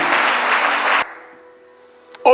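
Church congregation clapping together during a sermon, a dense burst of applause that cuts off abruptly after about a second, leaving a quiet room tone before a short loud sound at the end.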